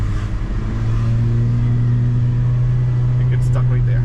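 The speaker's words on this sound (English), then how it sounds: "You can hear the turbo whine" A car's turbo whines as it pulls away hard from a complete stop with the engine struggling, a loud steady low drone in the cabin with a thin rising whine near the end.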